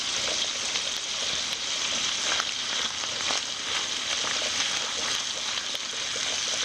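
Marmalade is dropped into a pan of bacon and shrimp, which gives off a steady, close sizzling hiss that stays even throughout with no talking.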